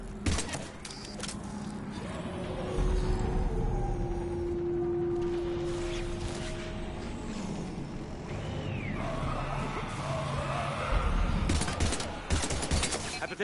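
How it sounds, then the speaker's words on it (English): Sustained gunfire bursts in Mass Effect 3 combat, dense rattling shots mixed with battle noise and mechanical clanks, fairly loud throughout with a voice heard briefly. "We're taking heavy fire."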